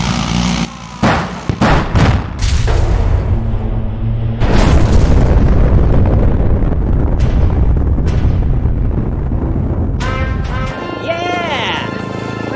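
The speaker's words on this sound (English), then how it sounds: "We gotta shoot out these support beams." Support beams are shot out and come crashing down in a Henry Stickmin video game: a rapid series of sharp shots, then a long, loud rumbling collapse and booms, with a voice talking near the end.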